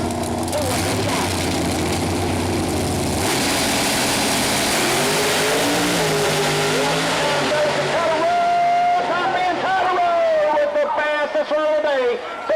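Nitrous Quick 8 Pro Mod door slammer drag cars racing at Mooresville Dragway, engines roaring loudly at full throttle and climbing in pitch through the gears, with an announcer talking over the noise.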